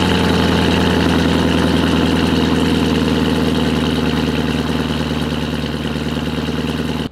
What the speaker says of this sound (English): now we are gonna put some heat in this engine